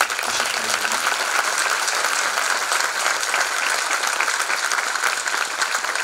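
Sustained audience applause honouring the choir members at a Turkish classical music ensemble concert, a dense steady wash of clapping from a large crowd lasting throughout without pause.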